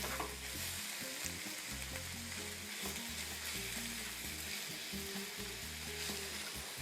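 Nopales cactus sizzles over medium-low heat while being stirred in a pan, a soft continuous frying hiss with low irregular scraping throughout.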